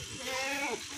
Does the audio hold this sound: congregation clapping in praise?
no